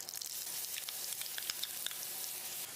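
Steady sizzling of ground garlic paste frying in hot oil, with a few crackles and pops over the continuous hiss; no voices.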